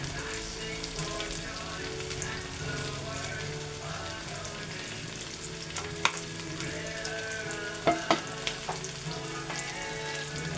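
Pork adobo sizzles and fries in garlic and vinegar, a continuous crackle with a few sharper pops and spatters near the end.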